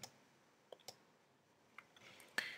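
A single mouse click on a software Transfer button, a few faint sharp clicks spread across a quiet stretch, with one slightly louder click near the end.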